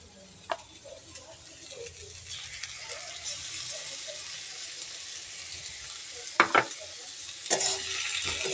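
Spices frying in a pan for a Bengali fish curry (macher chorchori), a steady low sizzle with faint scraping stirs and a couple of sharper clinks of a utensil against the pan near the end.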